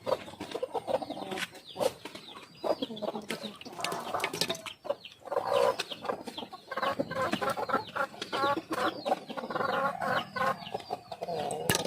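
Chicks and chickens cluck and peep continuously in a busy, close chorus of overlapping calls, with a voice occasionally heard in the background.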